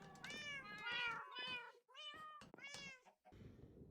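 A cat in a life-sim video game, calico or orange, meows several times in a row, close and clear, bright drawn-out cries with short pauses between them and no talk.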